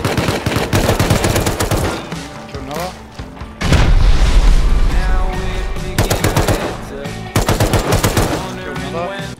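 Rapid machine-gun bursts and heavy rocket explosions in the survival game Rust, with loud dense automatic fire, a deep booming blast near the middle and more volleys after it, running continuously.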